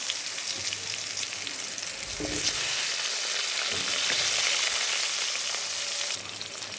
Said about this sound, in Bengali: সেই তেলে এবার আলুগুলো ভালোভাবে ভেজে নেব